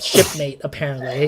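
A person gives a single sharp sneeze at the start, close to the microphone, and speech follows right after.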